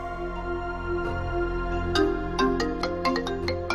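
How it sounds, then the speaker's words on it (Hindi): A mobile phone ringtone plays for an incoming call, a bright electronic melody of quick repeated tones sounding clearly over a low background hum. "आप ये बताएं किसका फोन आ रहा है बार बार?"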